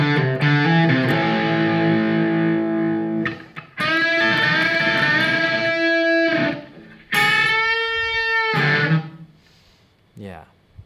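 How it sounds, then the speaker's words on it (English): A distorted electric guitar with effects, playing several string bends in phrases, each held note sliding and wavering in pitch, loud and close, with brief gaps between phrases. "So here's a couple of bend things that I do that sound cool."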